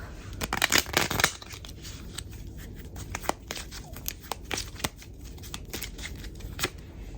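Cards being shuffled in quick riffling bursts, a loud flurry near the start followed by softer intermittent snaps and flicks, close by.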